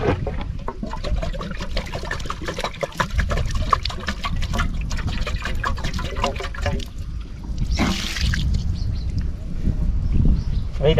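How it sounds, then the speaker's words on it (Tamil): Water splashes and trickles while a glass fish tank made from a fused tube light is rinsed, a continuous close-up pouring and dribbling with a sharper gush partway through. "தண்ணியை வந்து நல்லா கழுவிக்கலாம் மக்களே."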